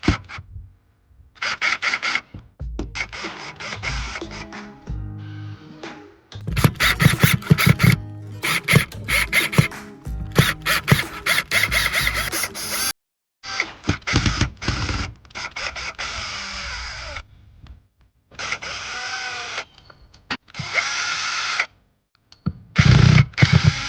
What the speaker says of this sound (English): So this is going to take these 3 screws out.